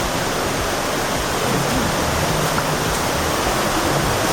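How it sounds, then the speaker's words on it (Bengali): Water rushes steadily down a waterfall stream in Cherrapunji, a dense, constant roar with no breaks, fairly loud and close, and no voices over it. "এমনি জল বয়ে যাচ্ছে"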